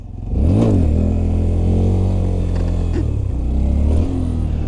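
A motorcycle's engine revs hard and steady as the rider lifts a wheelie past its balance point and works the rear brake, with the engine pitch rising and dipping close by; no talking.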